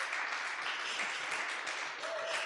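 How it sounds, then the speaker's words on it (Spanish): Church congregation breaks into a sustained, loud wash of applause at a sermon by a pastor, dense clapping filling the room without pause. "Denle un fuerte aplauso a Dios para esto"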